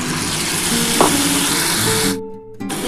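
Spiced masala water poured into a hot pan for a fish curry sets off a loud, close sizzle that runs strongly, then drops out briefly and resumes softer near the end.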